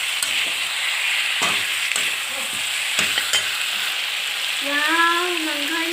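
Chicken meat and potatoes sizzle steadily in a pan, with intermittent stirring scrapes and clinks, close and continuous, with a brief voice near the end.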